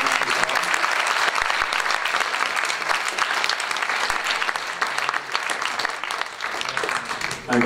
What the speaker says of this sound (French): Je crois qu'on peut à nouveau applaudir très fort.